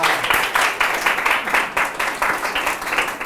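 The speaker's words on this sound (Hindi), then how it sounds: "जोरदार तालियां बजाएंगे।" A church congregation at a Sunday service claps in strong rhythmic unison, sharp regular beats about three per second, close and loud throughout.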